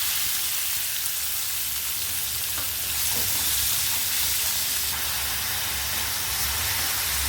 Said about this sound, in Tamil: சோம்பு பொரிஞ்சதுக்கப்புறம் இதில் 2 பெரிய வெங்காயம் ஃபைனாக சாப் பண்ணியிருக்கிறத சேர்த்துருக்குறேங்க.